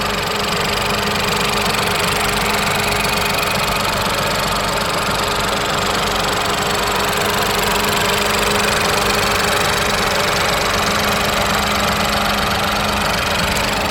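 The 2018 Ford Fiesta 1.0-litre turbocharged three-cylinder EcoBoost engine idles loudly and steadily with a constant even drone and no talk.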